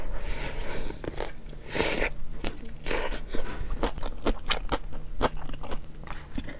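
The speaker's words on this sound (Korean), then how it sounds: "한입 먹었는데 매운데?" Crunchy bites and chewing of a spicy hot dog from a Korean hot dog shop, close and loud, with repeated sharp crackling crunches and wet mouth sounds, no talking.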